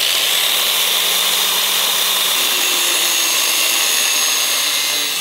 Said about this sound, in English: It handled the surge from this angle grinder perfectly.